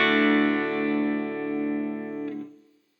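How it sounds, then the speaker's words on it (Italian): Electric guitar played through an amplifier with the overdrive pedal bypassed, a sustained chord ringing full and fairly loud before fading out at the end, with no talking. "Il suono dell'amplificatore è questo."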